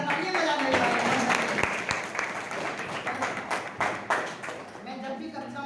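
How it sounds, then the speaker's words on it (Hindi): An audience at a school new year program claps in a dense, sustained round of applause that gradually thins, with voices talking through it. "तालियां बजाने वाले।"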